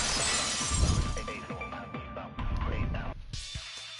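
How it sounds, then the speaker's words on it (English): A vase shatters in the video game Danganronpa 2: a loud crash of breaking ceramic followed by scattered tinkling fragments that fade out. "If it wasn't the window, then what broke to make that sound? A vase."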